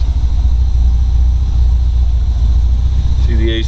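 A 1966 Austin Healey 3000 MKIII's six-cylinder engine runs with a steady, deep low rumble close by, holding constant for a few seconds before a brief higher tone appears near the end.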